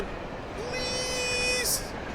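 A train in the Alan Wake video game sounds a long, steady horn blast with a brief hiss at its end, heard over a low rumbling background.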